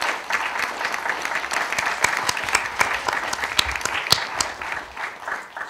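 Audience at a French talk-and-screening event claps together, a dense patter of many hands with sharp individual claps standing out, steady for several seconds before thinning slightly toward the end.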